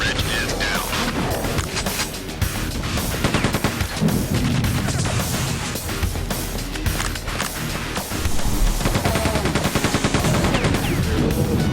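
Rapid rifle fire from Quake II rattles out in dense continuous bursts over a busy mix of game sounds and music, loud and up close.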